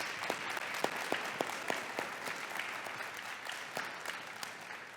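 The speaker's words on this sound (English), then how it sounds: "We're going to do a lot of applause today." Applause for nurse aide students at a certified nurse aide pinning ceremony, a sustained patter of many hands clapping at moderate distance, fairly soft and even with scattered sharper claps.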